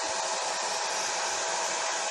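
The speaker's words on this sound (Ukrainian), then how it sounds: "Я десь так 20 см від нього тримаю фен" Constant, loud whoosh of a hair dryer running steadily while drying a parrot after its bath, held about 20 cm away, a smooth unbroken airflow roar with no voices.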